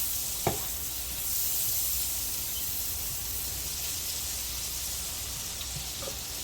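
Squash and green beans sizzling in a hot pan, a steady close hiss of frying with a faint knock near the start and small crackles scattered through, no voices.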